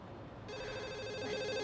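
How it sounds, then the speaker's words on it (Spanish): A telephone starts ringing partway through, a bright warbling electronic ring that comes in suddenly and continues steadily at moderate loudness over a quiet room. "Atienda el teléfono."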